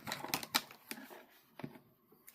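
Scissors snip through a cardstock paper piece in a quick series of close, crisp cuts, busier at first and then sparser, quiet and with no voices.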